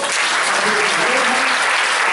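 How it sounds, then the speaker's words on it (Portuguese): Loud, sustained applause from a large church congregation during a worship service, steady clapping filling the whole stretch with no pauses. "Vamos aplaudir ao Senhor"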